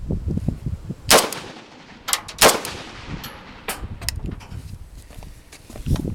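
An AK-pattern VEPR rifle with a muzzle brake fires several sharp, loud, spaced shots outdoors, each a hard crack with a short ringing decay, mixed with fainter clanks and shuffling between.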